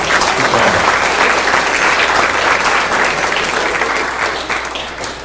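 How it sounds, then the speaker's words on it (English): At a school board meeting, an audience gives a round of applause for first team all-district honorees, dense continuous clapping that holds steady and tapers slightly at the end. "round of applause for first team all-district"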